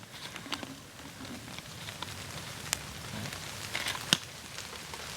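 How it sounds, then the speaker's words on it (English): Steady rain patters in a forest with occasional louder drips and splats, quiet and even throughout. "Here comes rain."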